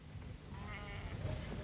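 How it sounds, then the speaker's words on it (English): A sheep being fed thistles gives a single wavering bleat that rises midway through and trails off, set against a steady low background hum with no talk. "Chamblon is feeding the sheep contaminated thistles."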